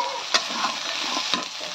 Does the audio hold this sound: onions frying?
yes